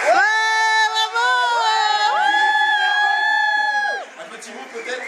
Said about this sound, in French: Mais sous les applaudissements.